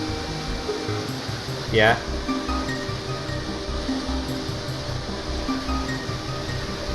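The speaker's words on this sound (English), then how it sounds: "This is a water fountain?" Water fountain in a RollerCoaster Tycoon 3 theme park, a steady broadband splashing wash running throughout at moderate level, with a brief voice and ambient park music underneath.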